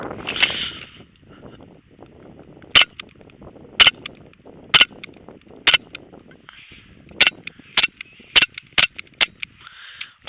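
A Daisy Powerline 5501 CO2 pistol fires at targets outdoors, about a dozen sharp close pops coming singly and in quick pairs, with a faint hiss of gas and light background rustle between shots.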